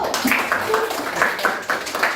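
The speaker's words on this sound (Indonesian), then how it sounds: "Tepuk tangan untuk kelompok 1" Sixth-grade class claps for group 1 in a classroom, a short scattered burst of hand claps with some voices mixed in.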